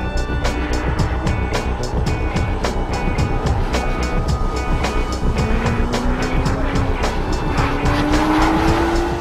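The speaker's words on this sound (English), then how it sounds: "That exhaust note is absolutely unbelievable." Porsche sports car on the move, its loud, steady exhaust note sweeping up through rising gears, with tire squeal mixed into the sustained roar.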